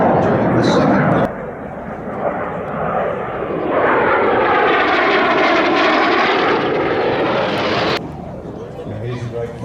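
Warbird aircraft pass in close formation at an airshow over Wanaka, a loud sustained engine roar that swells and sweeps past, with a commentator speaking over the public address throughout.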